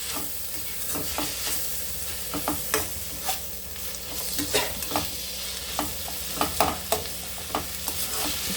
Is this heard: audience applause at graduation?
no